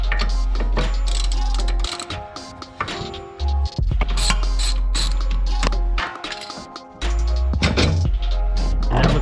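A ratchet wrench removes the 17mm bottom bolt of a coilover on an Acura RSX suspension. Close, dense metallic clicks and clanks come in uneven bursts, backed by a loud low drone from a running power tool or compressor.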